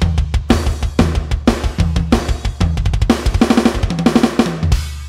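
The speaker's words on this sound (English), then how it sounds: "But adding samples just makes it sound like this." An acoustic drum kit layered with added drum samples: punchy, loud kick and snare hits in a driving pattern with cymbals on top, dense and close throughout.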